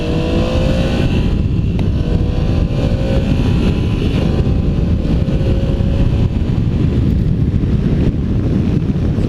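A 2016 Triumph Tiger 800XC motorcycle accelerates hard through first and second gear, its engine note rising and shifting under loud, steady wind buffeting on the microphone.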